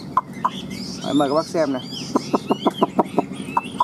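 Caged hwamei songbird giving a run of sharp, evenly spaced chipping calls that ring out close and clear, while someone talks in Vietnamese before and between them.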